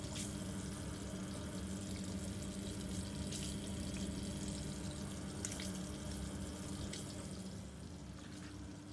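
Bosch Logixx 9 washing machine with a newly replaced drain pump emptying its water, a steady close rush and gurgle of pumped water that fades a little near the end.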